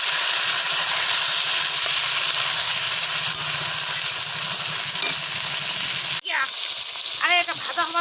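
Mutton with chopped onion fries in a pot, a loud, dense, hissing sizzle with stirring throughout; a brief clatter near the end is followed by a fainter sizzle and a few short squeaky scrapes.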